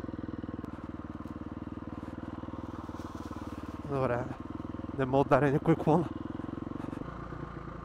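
KTM SX-F 350 motocross motorcycle ridden through a forest, its engine idling and revving in a steady close buzz with a few sharp throttle blips midway, while someone talks over it.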